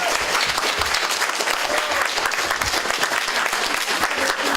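Dense, loud round of applause from a community gathering crowd for a group of young people, continuous clapping filling the whole stretch without pause.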